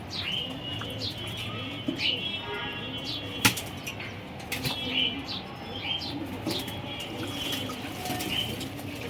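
Pigeons bathing in winter, with soft cooing, repeated short chirps and a few wing flutters over a steady splashing background, plus one sharp knock in the middle.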